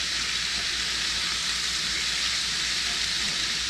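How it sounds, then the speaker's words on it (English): Skillet meatloaf patties sizzle and fry in a hot pan, a loud, continuous hissing crackle that holds steady throughout with no voices. "I'm gonna go ahead and flip over my meatloafs, my pan loaves"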